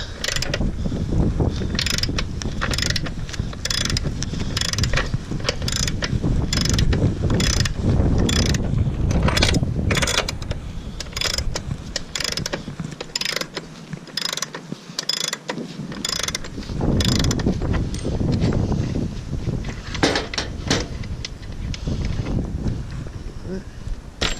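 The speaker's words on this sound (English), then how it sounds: "So alright, 36mm socket." Socket wrench with a 36mm socket loosening the rear wheel axle nut on a 2015 BMW S1000RR sport bike, a steady run of rapid ratcheting clicks and metallic mechanism rattle close up, with some talk.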